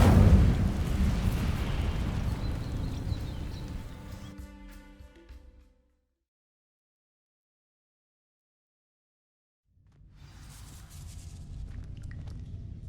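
An Incendio fire spell erupts in Hogwarts Legacy with a loud whooshing burst that fades over several seconds into silence, then a softer rumble returns near the end.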